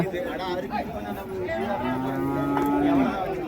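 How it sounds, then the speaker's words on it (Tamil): Native cattle moo loudly and close by at a cattle market in Uthangarai, a long low call rising and holding, over a busy background of people chattering. "நாட்டு பசுமாடுங்க."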